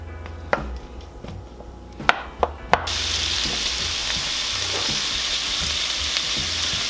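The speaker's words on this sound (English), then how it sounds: "Just long enough to get some of that sear flavor in these" Beef sausages searing in a hot pan for sausage and bean soup, a few sharp clatters and taps followed by a loud, steady sizzle that carries on to the end.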